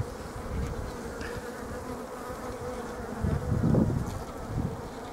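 Honeybees hum steadily around a wingless queen in a hive, a dense close buzz that swells louder for a moment near the end.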